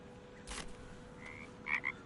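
A Baldur's Gate 3 adult frog croaks over low ambience: a faint thud, then a short chirp and two quick croaks close together near the end.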